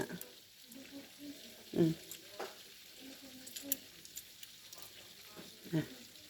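Fish crisp-frying in hot oil in a home kitchen, a faint steady sizzle running throughout with a couple of louder bumps and clatters, while a voice talks quietly over it.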